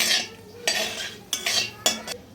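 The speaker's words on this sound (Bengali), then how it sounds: "জিরেটা শুকনো লঙ্কাটা তেলের সাথে একটু নাড়াচাড়া করে নিচ্ছি" A spoon scrapes and clinks in a pan while whole cumin seeds and dried chillies are stirred in mustard oil, four quick metallic scraping strokes close up.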